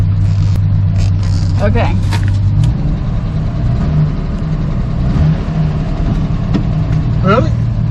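A 1973 Dodge Dart Swinger barn find, started for the first time in 29 years, idles and revs loudly and steadily while people talk over it.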